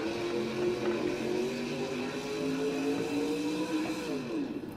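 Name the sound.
monster truck engine revving in video game BeamNG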